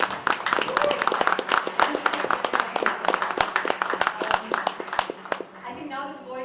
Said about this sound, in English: there'll be a huge round of applause before the Ambilight